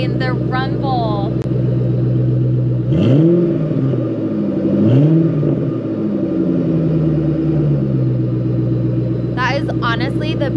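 A 2003 Mustang SVT Cobra Terminator engine rumbles at idle and is blipped twice into throaty revs, with voices talking over it at the start and end.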